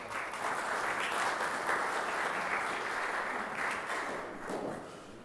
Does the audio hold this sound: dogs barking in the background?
no